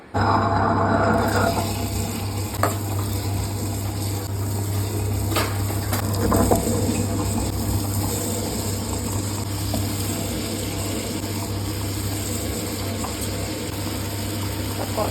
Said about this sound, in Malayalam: ഇനി ഇത് രണ്ടും നമുക്കൊന്ന് അരയ്ക്കാനിടാം.